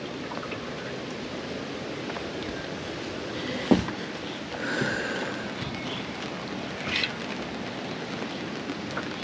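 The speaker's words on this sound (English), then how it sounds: "Rain's here." Rain falling steadily outdoors at a flooded fishing spot, a continuous hissing patter with a few louder taps and knocks, and no voices.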